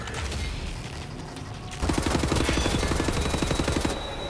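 Rapid automatic gunfire in Wolfenstein: The New Order hammers out in a fast, even stream of loud shots after a quieter stretch of mechanical background, with no talk over it.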